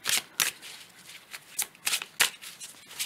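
Tarot cards are shuffled up close in a series of quick riffling bursts, about six or seven separated by short pauses, with no voice over them.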